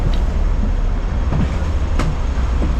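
Continuous low rumble inside a moving Hong Kong rail carriage, with a few brief clicks and squeaks over the steady noise.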